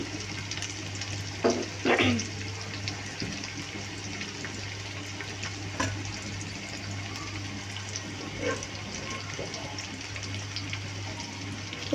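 Chopped garlic and onion frying lightly in oil in a pan, a soft, even sizzle that holds steady throughout, with a low hum underneath and a few brief louder bursts near the start.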